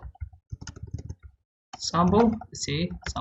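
A computer keyboard types out a file name in a rapid run of light clicks, mostly at the start, with a voice talking over and after the keystrokes.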